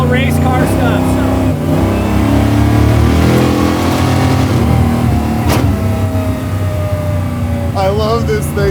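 A 900HP supercharged Jeep Willys Ultra 4 truck engine revs loudly and close, rising and falling with mechanical clatter and voices talking over it.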